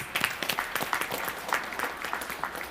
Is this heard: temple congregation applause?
yes